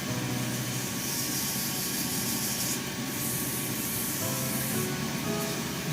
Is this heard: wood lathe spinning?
yes